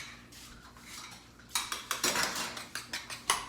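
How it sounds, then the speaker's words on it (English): A fork whisking shortening in a bowl for tamales, rapid clinking scrapes against the bowl in a quick irregular rhythm, close and fairly quiet, with a softer stretch before the whisking speeds up. "Just whisk it up so that it's light and fluffy."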